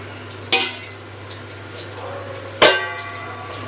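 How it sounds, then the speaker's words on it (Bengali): Whole garam masala, dried chilli, cumin and bay leaf frying in hot oil left from frying potatoes, a steady close sizzle broken by two sharp stirring clatters against the pan. "ওই তেলে ফোড়নে দিয়ে দিলাম গোটা গরম মশলা, শুকনো লঙ্কা, জিরে, তেজপাতা"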